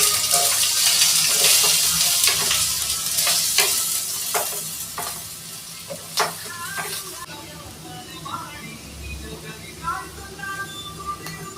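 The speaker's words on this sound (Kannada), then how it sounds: "ಈರುಳ್ಳಿ ಆ್ಯಡ್ ಮಾಡತ್ತೀವಿ." Sliced onions hit hot oil for paneer masala with a loud, hissing crackle that gradually settles into a softer sizzle, broken by sharp stirring scrapes and clinks.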